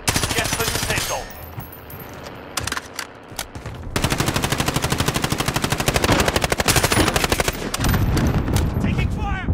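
Rapid automatic gunfire in Call of Duty: Modern Warfare, loud and sustained bursts with dense rattling volleys and sharp single shots, heard close amid battle noise.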